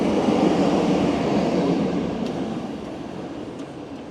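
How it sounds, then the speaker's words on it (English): A small tram rolls along a San Francisco street, a loud broadband rumble close by that slowly fades as it moves away. "There's a wee tram."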